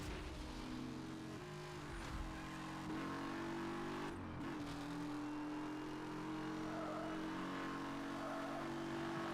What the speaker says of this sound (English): I hate this W16 engine